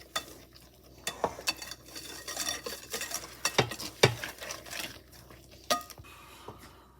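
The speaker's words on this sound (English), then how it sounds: "I'll mix it together so you get a really nice muffin batter" A spoon stirs apple cider muffin batter in a bowl, producing close, irregular wet squelches and clinks against the bowl that come in bursts with short pauses between them.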